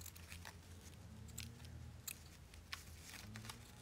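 Scissors snipping pieces from decorative craft trim for an altered book journal, a few faint, sharp close cuts spaced irregularly over a quiet background.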